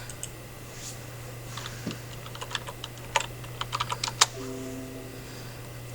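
Brisk keystrokes on a computer keyboard as a search query is typed, a run of close, irregular clicks over a steady low hum.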